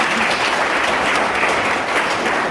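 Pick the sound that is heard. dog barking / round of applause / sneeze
round of applause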